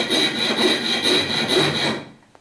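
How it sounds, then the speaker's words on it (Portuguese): A round wood rasp is worked over a wooden handle clamped in a vise, giving loud, close rhythmic rasping in even back-and-forth strokes for about two seconds before it stops abruptly. "Se você quiser afundar um pouco mais aqui, você prende numa morsa, usa uma grosa redonda"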